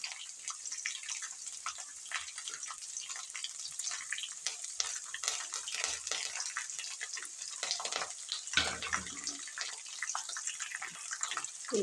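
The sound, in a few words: onion frying in pan for chitranna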